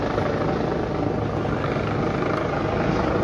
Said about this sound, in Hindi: बहुत दूर से हेलीकॉप्टर चॉपर यहीं पे है